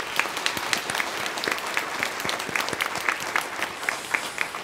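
A church congregation claps at a pastor's installation service, many hands producing dense, crisp, steady applause from start to finish with no talk over it.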